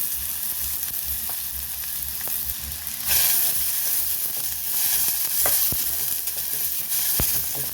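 Onion sizzling and frying in a pan for a Mangaluru-style chicken dish, a steady loud hiss with occasional stirring clinks and scrapes throughout, no voices.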